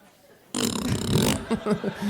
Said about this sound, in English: Here's a sustained fart.